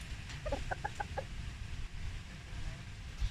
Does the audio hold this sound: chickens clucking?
yes